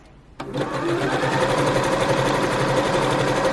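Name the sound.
sewing machine zigzag stitch on bunting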